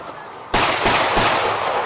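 A howitzer fires during a Norwegian military firepower demonstration, one sudden loud boom after a quiet moment, its blast rolling out and lingering outdoors.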